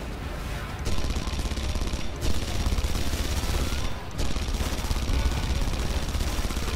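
Red Faction Guerrilla gunfire: continuous automatic fire hammering almost nonstop, in long rapid bursts with brief gaps, loud and close throughout.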